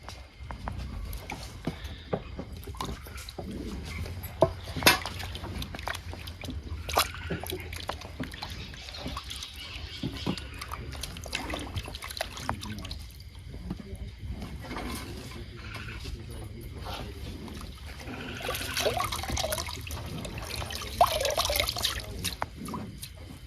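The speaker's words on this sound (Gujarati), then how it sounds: "તો હવે આને સારી રીતે ધોઈ કાઢીશું આપણે." Tomatoes and coriander are washed by hand under running water in a village kitchen, giving a steady trickle and splash with scattered handling knocks throughout, no talk.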